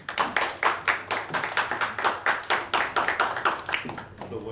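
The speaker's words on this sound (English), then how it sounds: "We give the applause." Wedding guests clap together right after the ring exchange at a marriage ceremony, a fairly close, steady patter of many hands with a loose rhythm, lasting several seconds and fading slightly at the end.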